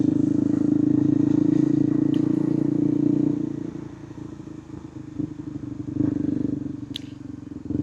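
A motorcycle engine rumbles steadily up close while riding through a traffic jam, loud at first and then easing to a lower idle-like drone, with faint traffic clatter around it.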